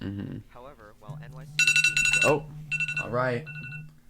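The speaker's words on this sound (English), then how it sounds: "That's my alarm" A loud electronic alarm going off in bursts of high, bright repeating tones, breaking in twice over a quieter background voice and a person's brief remarks.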